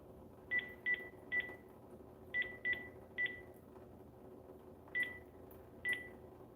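Touch-tone phone keypad dialing, eight short bright DTMF beeps in uneven bursts over a faint steady background hum, with no talking.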